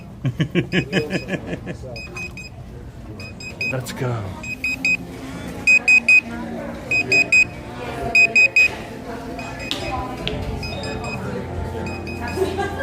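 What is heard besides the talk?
buzzer sounding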